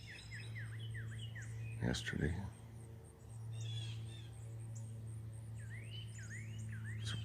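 Small backyard birds at a filled seed feeder give quick repeated chirps and whistled calls, fairly faint over a steady low hum, with a brief clatter midway.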